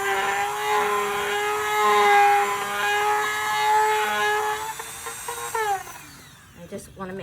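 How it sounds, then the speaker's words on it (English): A Dremel rotary tool cuts holes in Dollar Tree plastic skulls for a Halloween prop, a steady high-pitched whine with a continuous grinding buzz that runs for several seconds before tapering off into a few brief touches at close range. "We're gonna use my Dremel to create holes."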